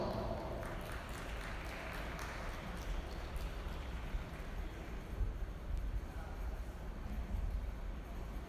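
An audience applauding at a dairy cattle show in an arena: a dense, steady wash of clapping that swells slightly near the end, fairly loud and diffuse, with no talk over it.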